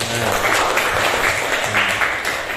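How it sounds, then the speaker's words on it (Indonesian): A class at an Islamic school claps together after a student's presentation, a dense, even burst of applause close by, with faint voices beneath. "Beri tepuk tangan dulu."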